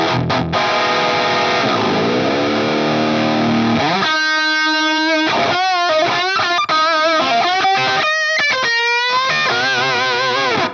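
An electric guitar played through a TONEX amp sim pedal rings out with distorted, sustained chords, then shifts into bent lead notes and choppy phrases with short silent gaps, loud and dry.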